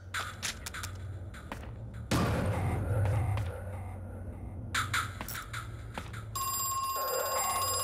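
Telephone bell ringing in the horror video game Crow Country, repeated rings in bursts among game ambience and footsteps, fairly close and clear, ending with a sustained tone.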